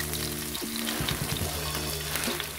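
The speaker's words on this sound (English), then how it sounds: "here we add the garlic to fry beef" Beef and garlic fry in a pan with a loud, close sizzle and spatter, alongside some stirring clatter, with no voices.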